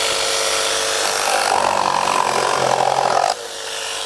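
A Milwaukee M12 Fuel jigsaw in orbital mode 4 cuts through wood with a loud, rasping buzz that intensifies midway, then drops abruptly as the blade stops.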